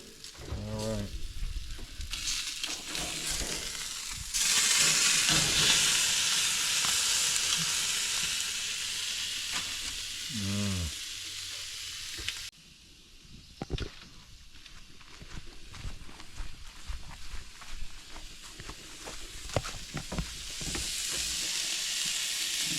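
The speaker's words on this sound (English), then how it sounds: "here we are with the sear" Meat sears on an outdoor grill with a steady, loud sizzle and crackle, while a metal spatula scrapes and turns it. Quieter stretches and a few shuffling steps come in between.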